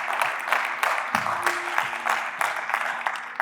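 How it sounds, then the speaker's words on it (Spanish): A Spanish-speaking church congregation claps during a service, a steady, moderately loud round of many hands with uneven bursts, heard without speech. "¿Cuántos pueden darle un fuerte aplauso a nuestro Dios?"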